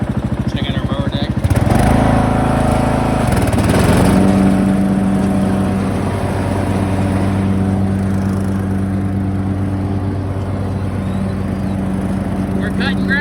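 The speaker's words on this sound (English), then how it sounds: "We're cutting grass." A Husqvarna RZ4621 riding mower with a Briggs & Stratton engine cuts grass, its steady close engine drone surging louder after a couple of seconds and then holding an even, loud hum throughout.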